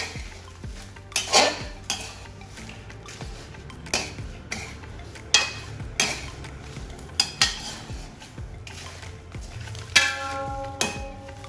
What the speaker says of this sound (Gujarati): આમ સાંસિંગ મદદથી એને પકડીને પછી વ્યવસ્થિત સ્ટેર કરીશું કન્ટિન્યુઅસલી, એટલે એ પણ શેકાઈ જશે સારી રીતે